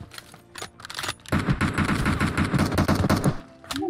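Rapid automatic gunfire from the battle royale game PUBG, a dense continuous burst of shots dominating the middle of the clip after a few scattered single shots, with a brief tone near the end.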